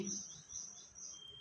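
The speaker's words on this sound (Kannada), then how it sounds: "ಹಕ್ಕಿಗಳ ಚಿಲಿಪಿಲಿ ತಣ್ಣನೆ ವಾತಾವರಣ ಇರುತ್ತೆ" Birds chirp faintly in the morning air, thin high tweets drifting in and out over a quiet background hum.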